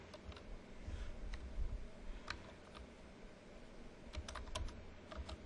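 Quiet, rapid keystrokes clatter on a computer keyboard, an uneven run of light clicks over low room rumble with no speech.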